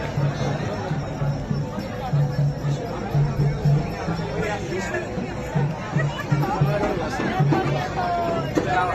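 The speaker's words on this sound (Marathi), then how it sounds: "आज प्रचंड गर्दी होती" Large crowd at the Khandoba temple on the first Sunday of Paush month, a dense, steady babble of many voices with footsteps and movement throughout, close and continuous.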